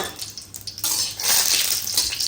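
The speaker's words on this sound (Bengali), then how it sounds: "তেলটা গরম হয়ে গেছে এবার এর মধ্যে শুকনো লঙ্কাটা দিয়ে দিলাম" Dried red chilies drop into hot oil in a pan: a quiet stir and clink of utensils, then a sudden loud, hissing sizzle that swells and crackles steadily, close up with no talking.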